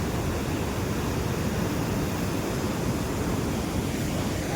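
Steady rushing water from a river flows beside a rough mountain trail on the route from Dayal to Kedarnath and Madhyamaheshwar during the monsoon, a dense, unbroken roar at an even level throughout.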